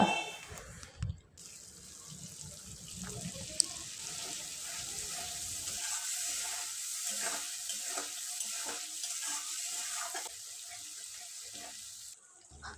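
Spice paste dropped into hot oil for a vegetarian paneer curry, giving a steady, bright, hissing sizzle that holds throughout with a few light clatters of a utensil.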